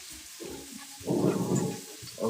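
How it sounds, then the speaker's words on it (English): Cabbage searing in a hot pan for a plant-based Caribbean coconut curry: a broad, steady hiss that swells loudly after about a second, holds, then dips before rising again. "so cabbage is searing"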